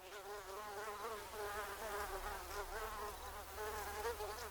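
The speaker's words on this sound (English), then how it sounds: "Wild bees are busy collecting nectar and pollen among the blooming yellow wild" Wild bees buzz steadily among blooming yellow wild chrysanthemum flowers, a close, continuous hum of wingbeats with wavering pitch, several insects overlapping, no voices.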